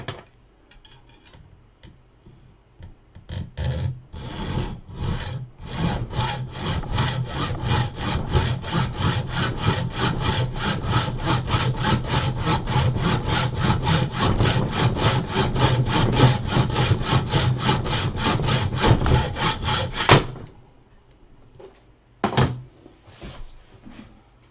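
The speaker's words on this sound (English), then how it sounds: "make a quick cut." A hand saw cuts quickly through material in rapid, steady back-and-forth strokes, loud and close, running about fifteen seconds before stopping, with a few scrapes afterward.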